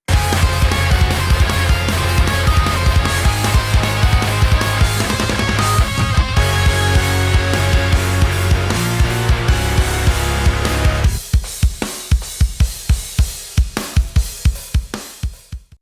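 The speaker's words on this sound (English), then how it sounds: "How to mix pop-punk drums to sound like this." A mixed pop-punk drum kit built from samples pounds along under dense, loud full-band music before dropping to a solo run of punchy drum hits near the end, with no talking.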